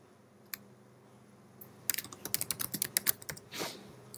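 Quick bursts of typing on a computer keyboard, close and fairly quiet, with a few isolated key clicks first and then a rapid run of taps.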